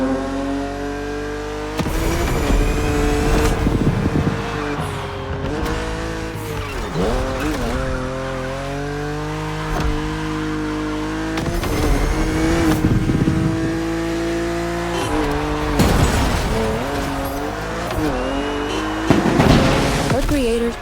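BMW car driving in The Crew Motorfest, engine revving up and down through gear changes with repeated tire squeals and skids, loud and close, while a voice talks over it.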